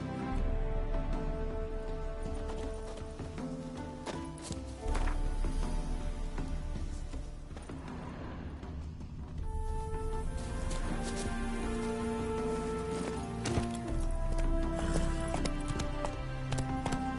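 Hooves of Roach, the horse in The Witcher 3, galloping in a steady clip-clop rhythm at close range, layered under game music and ambience, with no talking.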